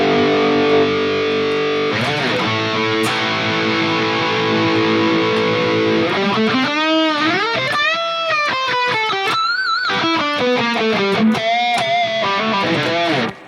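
Electric guitar played loud through a Mooer GE 1000 high-gain amp model, first sustained distorted chords, then bending, wailing lead lines with heavy saturation, continuous and alone.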